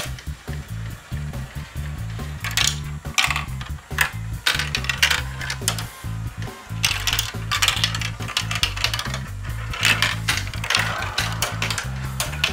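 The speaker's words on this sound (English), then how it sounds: "now the marbles are headed up the final elevator" A marble race track elevator lifts marbles, with rapid ratcheting clicks and small clacks of glass marbles over a constant low mechanical hum from the lift.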